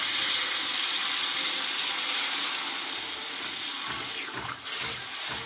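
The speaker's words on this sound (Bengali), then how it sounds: "আমি পরিমাণ মতো জলটা দিয়ে দেবো" Water pours into a pan of cooking jackfruit curry, a continuous close rushing hiss with bubbling and splashing that swells toward the end.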